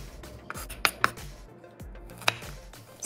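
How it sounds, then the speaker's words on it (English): A knife roughly minces garlic on a cutting board, sounding as a handful of sharp, irregular chops with crisp clicks against the board, close and fairly quiet with no talking. "Roughly mince your garlic"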